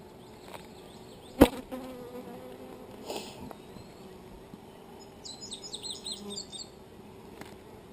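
Honey bees buzzing around an open beehive box holding pollen and honey ready for capping; a steady low swarm hum fills the scene, with one sharp knock early on and scattered higher buzzing passes.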